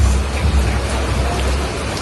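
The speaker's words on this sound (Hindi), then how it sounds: "इतनी बारिश कंटिन्यू बारिश रुकने का नाम ही नहीं ले रही" Heavy, continuous rain pours down steadily through a monsoon downpour, a dense unbroken hiss with a deep rumbling low end, close and loud throughout with no voices.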